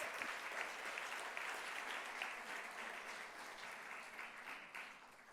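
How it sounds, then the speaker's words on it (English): Sustained applause from an audience at a Women's Equality Day event, honoring college students fighting for their rights; dense, steady clapping fills the whole stretch, tapering slightly toward the end. "So give them a round of applause"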